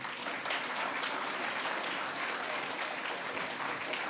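Audience applause following a poetry reading, a steady dense wash of clapping from many hands that holds at an even level throughout with no voices on top.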